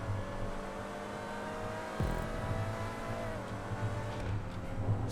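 A Vagner supercar in GTA 5 holds a steady droning engine note with a brief gear-change dip, then climbs in pitch as it builds speed on a race track; no voices.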